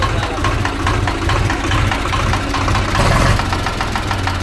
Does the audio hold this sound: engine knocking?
yes